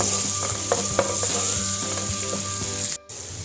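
Shrimp and bitter gourd sizzling loudly in hot oil in a pan, a constant close crackle with spatula strokes scraping through it and a brief drop near the end, no talk.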